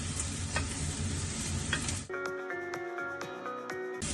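Garlic dropped into a hot frying pan with onions for chicken kabsa, a loud steady sizzle that cuts abruptly to quieter crackling and stirring clinks of a utensil against the pan.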